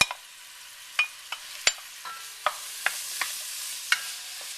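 Carrots, onions, garlic and pancetta sauté in a pan, with a spoon clacking and scraping sharply about eight times over a soft, steady sizzle; no talking.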